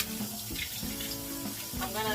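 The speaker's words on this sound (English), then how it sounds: "gonna let the sink fill up a little" A bathroom or kitchen sink fills from a running tap, water splashing and gurgling steadily at close range, with a faint voice in the background.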